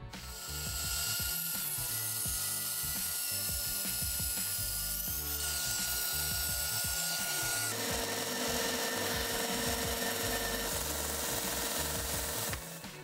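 Wood being cut and sanded for a wooden keyboard case, a continuous loud mechanical power-tool drone with rapid rattling texture, shifting in tone partway through and running without speech.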